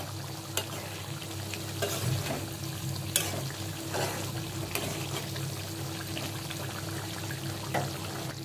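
Dried loitta fish fries in a pan, a soft steady sizzle with intermittent scraping stirs and light clicks of a spatula, fairly quiet and close.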